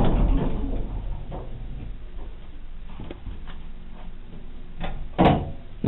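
A Montgomery elevator at the Grandville Plaza in Grandville, Michigan, with bumper-edged doors, runs its doors with a rumbling slide, faint clicks and a sharper thump near the end, heard close up.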